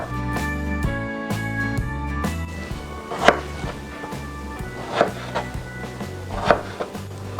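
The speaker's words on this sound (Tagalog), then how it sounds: "Ngayon po ay uumpisahan na po nating hiwain itong ating ampalaya." A knife chops bitter gourd (ampalaya) on a board in quick, evenly spaced strokes, close and clear, with a few sharper, louder knocks near the end and no talk.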